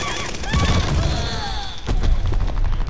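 Gunfire in Call of Duty: Vanguard, dense booming shots and rapid bursts packed close together, loud, with game effects layered over a steady noisy background.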